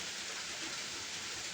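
Steady rain falls around a boat being repainted, a dense, even hiss of drops that stays constant throughout with no breaks and no voices.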